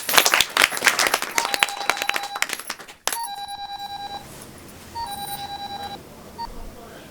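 Clapping fades out, then a phone rings in three repeated electronic bursts with short pauses between them.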